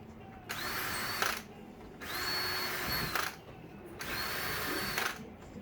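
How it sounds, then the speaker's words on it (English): A power drill with a 1/8 inch bit whirs in three separate bursts of about a second each while drilling holes for an outdoor sectional, with short pauses between them, close and steady. "we're just going to drill the holes the rest of the way with the 1/8 inch drill bit"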